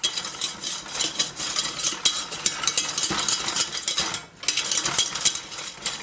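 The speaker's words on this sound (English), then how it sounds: "about 2 heaping tablespoons of flour, and I'm just going to whisk that together" A whisk stirring flour and sugar together in a bowl, making quick, continuous scraping and clinking against the sides, close and steady with one brief pause.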